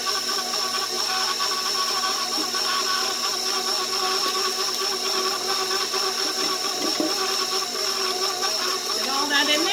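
A stand mixer fitted with a bowl-scraping attachment kneads homemade pizza dough, a steady loud whirring motor drone with a constant hiss that runs unbroken throughout, the pitch wavering slightly near the end.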